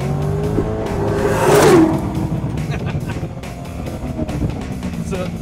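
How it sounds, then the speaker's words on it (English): A Chevrolet Corvette Z06 engine revs up in one loud burst, then the throttle is released and the exhaust crackles and pops. Someone talks over the sound. "floor it and then just let off really quick and hear that cackle coming from the exhaust"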